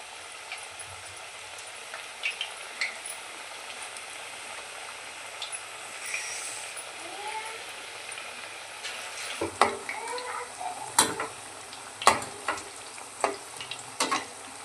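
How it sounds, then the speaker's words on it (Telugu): Onion garelu, lentil fritters, frying in oil over a medium flame, giving a steady soft sizzle that runs throughout, with louder stirring clatter and scraping breaking in near the end. "ఇప్పుడైతే మనం గారెలు వేసేద్దాం."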